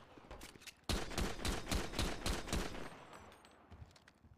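Rapid bursts of gunfire in the GTA V NoPixel roleplay game, about a dozen sharp shots in quick rhythm, loud and close, trailing off into quieter scattered sounds toward the end.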